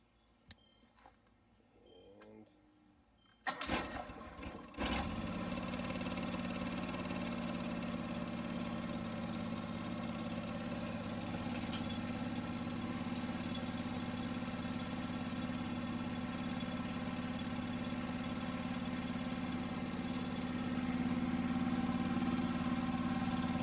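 A John Deere 425 lawn tractor engine cranks and starts after a carburetor replacement, then runs at a steady, loud, even idle with choke applied, rising slightly near the end.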